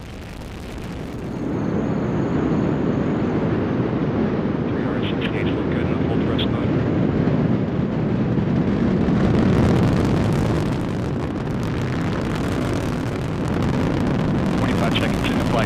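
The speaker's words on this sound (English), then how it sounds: "Liftoff of the mighty Delta IV Heavy rocket with NASA's Parker Solar Probe" A Delta IV Heavy rocket lifts off carrying NASA's Parker Solar Probe, a deep continuous roar that rises after a quiet start and rumbles steadily throughout, distant yet powerful, with crackling texture.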